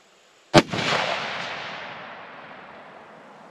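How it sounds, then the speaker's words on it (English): A single sharp 6.5 Creedmoor rifle shot cracks out close and loud during outdoor ammunition testing, followed by a long rolling echo that slowly fades. "First shot of the day."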